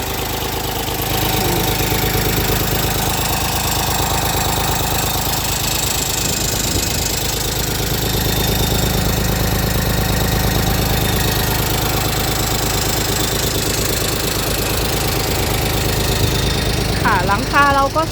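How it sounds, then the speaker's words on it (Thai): A 39-horsepower farm tractor's engine runs steadily at idle with a knocking, vibrating drone, loud and close, holding constant throughout with a brief change near the end. "เครื่องดีไม่มีอายค่ะ"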